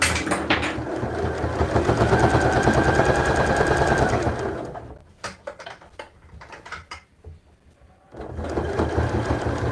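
A sewing machine stitches a seam on a side pouch in a loud, close, rapid whir, pauses for a few seconds of clicks and fabric handling, then starts stitching again.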